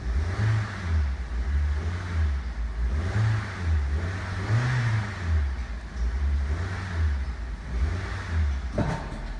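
A 2010 Honda Civic engine run up on a test at an auto wrecking yard, rising and falling through several smooth rev cycles, steady and close with no talk.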